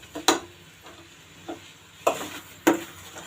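Saag greens being stirred in a pan while cooking for paratha: a soft background sizzle with a few sharp spoon scrapes and knocks against the pan, close and fairly quiet, no talking.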